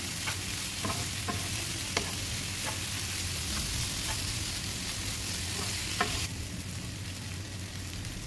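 Beef coated in masala stirred and fried in a pan, a steady close sizzle running throughout with repeated scraping and clinking strokes of a spoon against the pan, no voices.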